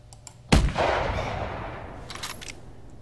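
A single loud 9.3x62 rifle shot rings out in the hunting video game theHunter, a sharp crack followed by a long rolling echo that fades over a couple of seconds.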